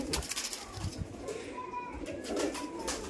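Rampuri pigeons coo softly at close range, with low murmuring calls among faint rustling and a few brief clattering sounds, under a quiet background.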